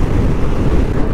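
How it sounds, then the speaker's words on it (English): Loud, steady wind buffets the microphone with a heavy low roar on Morocco's desert coast near Dakhla, constant and blustery throughout the short stretch. "it's absolutely crazy windy here"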